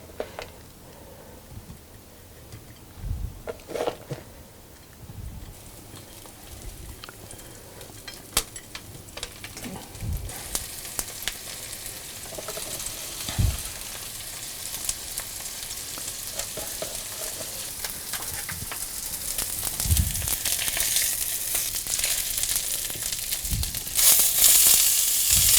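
Salted féra fish fillets topped with hazelnuts fry in a pan, crackling softly at first with occasional knocks, then swelling into a louder, steady sizzle toward the end.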